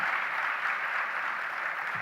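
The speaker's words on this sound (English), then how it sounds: "Could we have a huge round of applause for them?" Steady applause from an audience at a scholarship programme's silver jubilee celebration, a dense even wash of clapping lasting about two seconds with no voices over it.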